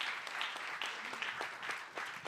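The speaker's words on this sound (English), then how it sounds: "A big round of applause for Code 4." An audience at a startup accelerator event applauds a presenting team, a steady, fairly soft wash of many hands clapping with scattered sharper claps, with no speech over it.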